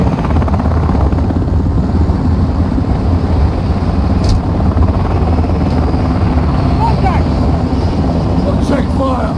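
A helicopter in the Modern Warfare II campaign makes a loud, continuous rotor roar that fills the whole scene. It is close and constant, and a few faint high chirps sit above it.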